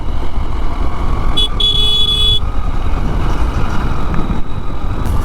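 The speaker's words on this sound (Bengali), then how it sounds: "দেখতে পাচ্ছেন সব চার চাকা নিয়ে সব যাচ্ছে ওই মন্দারমণি" Cars and other four-wheelers roll along the road toward Mandarmani with a constant loud road and engine roar, and a brief horn toot sounds partway through.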